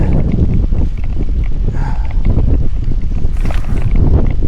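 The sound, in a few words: wind blowing during bike ride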